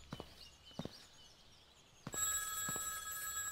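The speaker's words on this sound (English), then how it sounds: "Oh, phone's ringing." A telephone in a video game starts ringing partway through, a bright sustained electronic ring that follows a few sharp clicks and taps in an otherwise quiet scene.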